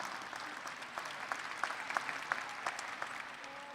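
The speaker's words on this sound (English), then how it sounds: "so we can give them a quick round of applause" Steady audience applause at a university commencement ceremony, many hands clapping at a moderate distance with scattered sharper claps standing out, continuing for several seconds without talk.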